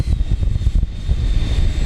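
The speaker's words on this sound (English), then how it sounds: "You can see this plane sounds fantastic going out." A small jet engine on a radio-controlled FMS A-10 Thunderbolt II model plane (1500mm) whines and roars up close while taxiing, steady and loud, with a rumbling low end and a thin high tone above it.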